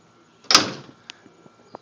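A 1977 Trans Am door shuts with one solid, heavy thump, followed by a few faint clicks and small knocks of the latch and handle in a quiet setting.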